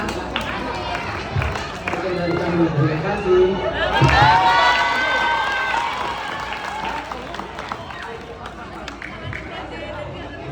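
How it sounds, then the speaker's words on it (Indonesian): Students in a classroom break into a burst of applause and cheering that swells in the middle and then fades into lively chatter and shouting, with a voice speaking at the start. "Tepuk tangan untuk kalian semua."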